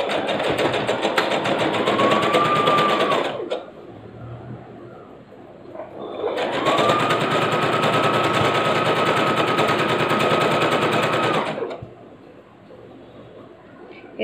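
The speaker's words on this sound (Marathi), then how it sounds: "आता ही बघा आपण ही उलट बाजूनी ही शिवण घालते" An electric sewing machine stitches a blouse seam in two long, loud, steady runs of rapid mechanical clatter, separated by a pause with quiet handling noise, with a rising whine as the motor starts each run.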